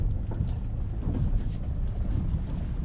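A 2022 Nissan Frontier Pro-4X crawling over bumpy, rocky terrain on Dynapro AT2 tires, a steady low rumble of engine and road noise with soft knocks and wind, heard from inside the cab.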